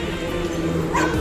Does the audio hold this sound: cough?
no